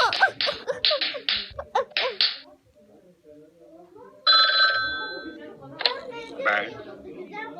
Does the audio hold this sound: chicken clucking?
no